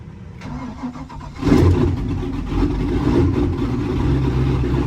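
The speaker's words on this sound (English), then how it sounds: "first start with the new starter" A 600 hp OBS drift truck fitted with a new starter cranks briefly, catches with a loud rumble, then idles and revs roughly nearby for several seconds.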